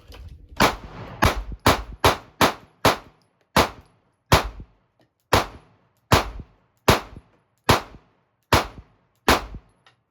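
Sharp pistol shots from a Sig Sauer P365 or Springfield Armory Hellcat during a 1,000-round test: about fourteen crisp reports with short decaying tails, the first few fired in rapid succession, then steady spaced shots about a second apart.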